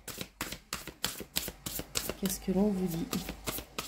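Tarot cards are shuffled for a general reading in quick, rhythmic, close riffling bursts, with a voice speaking briefly over them near the end.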